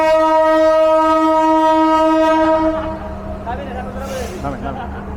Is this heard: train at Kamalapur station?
yes